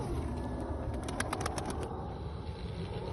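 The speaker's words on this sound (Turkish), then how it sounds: "Kaldırıyorum şimdi kuşu. Biraz kanat sesi dinleyin." A rapid burst of pigeon wing flaps, several quick beats close by, over a steady background hum.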